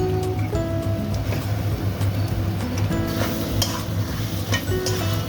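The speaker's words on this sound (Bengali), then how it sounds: "সুন্দরভাবে আলুটা মাখিয়ে নেবো" Boiled potato worked into frying masala in a pan, a constant close sizzle with soft scraping and stirring strokes over a low steady hum, no speech.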